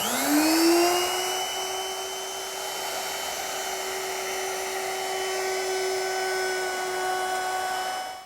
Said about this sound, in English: Now I'm going to round over the bottom edge of my top with a 1/4 inch rounding over bit.